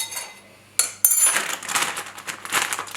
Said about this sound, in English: And give it a little stir if you like.